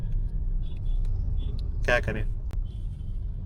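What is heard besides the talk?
road traffic on Shadipur flyover, Delhi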